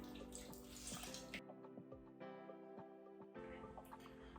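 Soaked fu zhu, dried tofu skin, being drained, with water pouring and splashing in a sink, then quieter trickles and drips before the pour resumes, close and soft.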